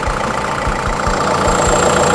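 A reconditioned Kubota L5018NT turbo tractor engine idles up close, a steady diesel rumble with evenly spaced low thumps throughout.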